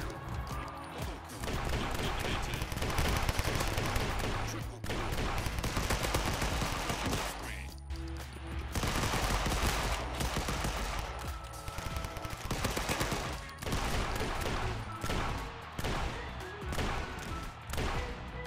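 Gunfire from a colorful 3D survival shooter game, WipeSquad, rattles in dense continuous bursts, loud and layered over game music and effects with brief pauses.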